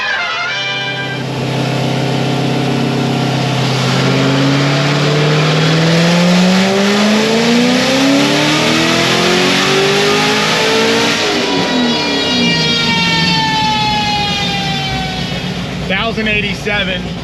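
A boosted C6 Corvette ZR1 on a dyno screams at full throttle, its pitch climbing steadily for several seconds before the revs drop and the engine winds down, loud and close.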